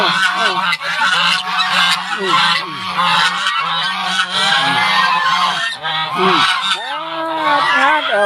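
Loud, nearby geese honking continuously, many overlapping calls in a noisy flock with no pause.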